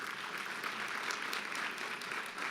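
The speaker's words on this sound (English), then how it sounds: "Let's give them a warm round of applause" Warm applause from a luncheon audience at the Economic Club of Indiana, a steady wash of many hands clapping, moderately distant and even throughout.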